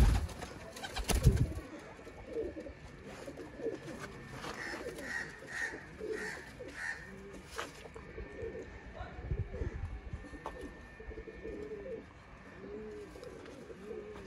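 Breeder pairs of Sialkoti pigeons in a home loft coo softly and intermittently, with rustling and faint background noise throughout and a brief louder knock near the start.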